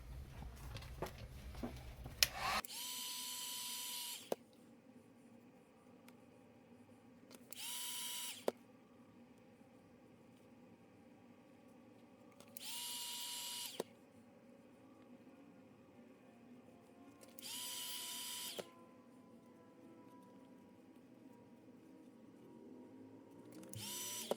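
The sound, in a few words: heat gun reshaping a Death Stranding Higgs mask jaw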